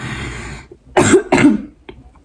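Two strong coughs in quick succession close by, followed by a softer short cough, with faint background hiss before them.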